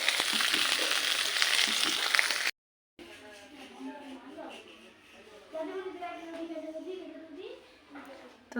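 Dried fish fritters crackle loudly in hot oil for a couple of seconds. After a brief gap, voices, including a child's, talk over a softer background hiss.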